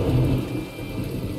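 Rain and rolling thunder from the weather in the video game My Time at Portia, a steady wash of rainfall with a low rumble swelling early and then easing, heard alone.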